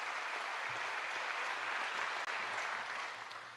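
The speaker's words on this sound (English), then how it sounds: "Let's give them all a big round of applause also for being here." A large audience at a public event in a hall applauds steadily in a dense, continuous wash of clapping that fades slightly toward the end, with no voices.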